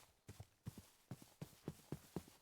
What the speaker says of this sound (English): the horse moved out of there